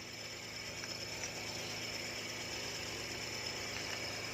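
An engine cylinder boring machine works through a cylinder in a machine shop, giving a continuous, even mechanical hum with a faint rhythmic vibration throughout.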